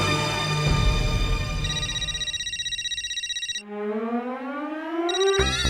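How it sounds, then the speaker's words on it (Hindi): An incoming-call phone ringtone plays in a Hindi comedy film scene, a loud electronic melody ringing alone with no talk over it. "ये माधवी फिर से क्यों फोन कर रही है?"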